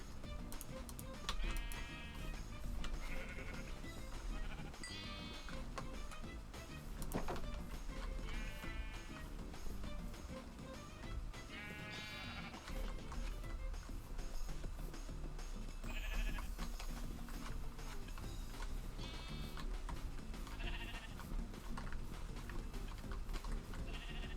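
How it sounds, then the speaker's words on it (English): Repeated video game sheep bleats rise over a steady noisy background, several separate calls spread through the whole stretch, some overlapping with clatter. "time to get some sheep over here."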